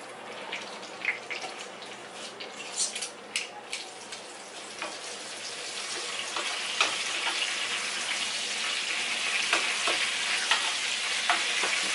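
Peppers sizzle and crackle in a hot pan on a stove, starting with scattered pops and building into a steady, loud frying hiss that fills the rest of the clip.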